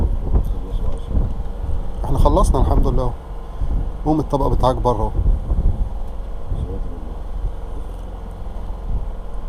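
Cold wind gusts outdoors by the sea, rumbling against the microphone as a steady low buffeting under two people talking.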